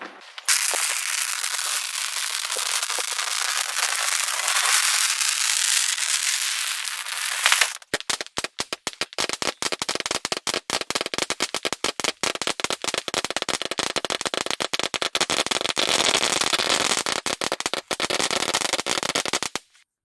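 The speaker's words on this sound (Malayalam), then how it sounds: "നമുക്ക് നേട്ടം പടക്കം പൊട്ടിക്കാനായിട്ട് തുടങ്ങി" A long string of firecrackers goes off for the Vishu festival. It starts with a loud hissing roar, then breaks into a dense, rapid chain of sharp cracks that keeps bursting for more than ten seconds.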